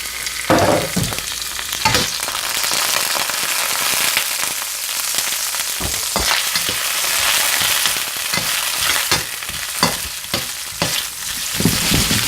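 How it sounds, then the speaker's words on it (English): Carrots sizzling and crackling in lightly smoking hot oil for a Beef Lo Mein, a steady loud fry with sharp pops and spits scattered throughout, no voices. "the oil is lightly smoking, so we're going to go in with the carrots"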